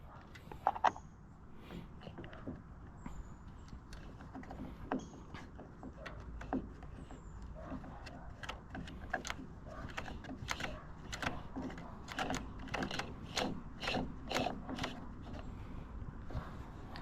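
Hand tightening of an Echo SRM-225 Speed Feed trimmer head gives a run of soft, rapid plastic clicks and ratcheting ticks, quiet and close, growing denser toward the end.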